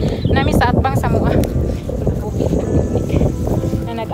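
Strong wind buffets the microphone at a countryside picnic in Bohol, a loud continuous roar under people talking.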